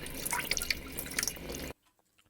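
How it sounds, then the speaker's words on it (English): Water drips and splashes in quick, close, bright plinks for under two seconds, then cuts off abruptly to near silence, a short clip used in a music project. "The last sound is that of the water."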